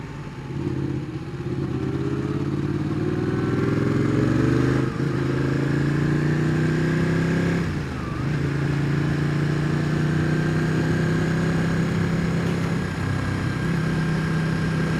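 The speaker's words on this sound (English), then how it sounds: "Oh, the bike's coming the other way." A motorcycle on a country road through pine trees, its engine droning steadily and fairly loud for the whole stretch, with pitch shifting as bikes pass from the other direction during a group ride.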